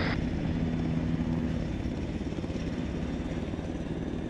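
A military helicopter in ArmA 3 holds a steady, loud rotor and engine drone. It sounds close by as it comes in to touch down, and no one speaks.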